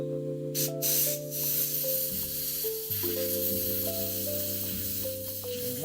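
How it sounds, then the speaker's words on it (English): A few short bursts of hissing compressed air early on, over a steady droning tonal background that carries on throughout. "I'm gonna spray it with some air really quick."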